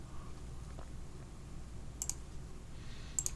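Two pairs of small, crisp computer mouse clicks, each a quick double tap, sound against a steady low hum while a VPN server is set up from a computer.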